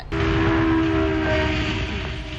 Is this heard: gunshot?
no